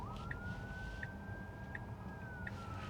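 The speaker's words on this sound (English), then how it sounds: "Oh, I hear sirens." A faint ambulance siren wails in a long, slowly rising and falling tone, distant under steady road and engine rumble from inside a Tesla.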